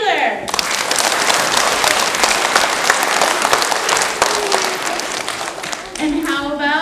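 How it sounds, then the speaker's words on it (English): An audience claps for a child at a children's recycling program, a loud sustained burst of applause that fades near the end as a presenter starts speaking. "Can you please clap for Taylor?"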